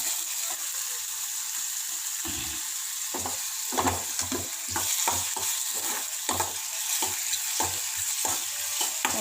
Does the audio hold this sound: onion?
yes